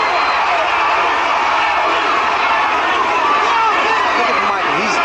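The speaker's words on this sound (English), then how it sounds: "Crowd around us chanting, Larry, Larry" Boxing fans at the Larry Holmes versus Michael Spinks heavyweight fight keep up a constant cheering roar and chanting, heard beneath continuous ringside commentary.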